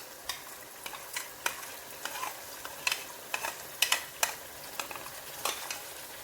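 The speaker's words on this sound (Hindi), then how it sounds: "अब हम इसमें योगर्ट ऐड कर लेते हैं और इसको मज़ीद हम 7 से 8 मिनट तक भूनेंगे योगर्ट के साथ।" Meat and yogurt fry in a pot for haleem, a soft steady sizzle punctuated by sharp, irregular stirring scrapes of a spoon close by.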